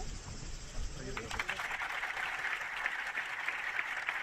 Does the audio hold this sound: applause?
yes